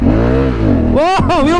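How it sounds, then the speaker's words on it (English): A Honda Africa Twin DCT motorcycle spins its wheel in mud, the engine revving hard and loud, rising sharply into a whining, sweeping note as the tire breaks loose. "wheel spin"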